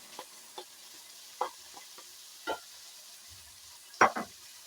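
Chicken and onion being stirred in a frying pan, a spoon scraping and turning the pieces in several separate strokes over a soft background sizzle, close and fairly quiet.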